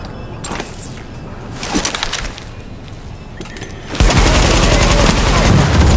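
Shots ring out from a 256 gun in The Division, Tom Clancy's shooter on a World Tier 5 test server, with a few scattered cracks and clicks before a dense, loud burst of rapid fire in the last two seconds.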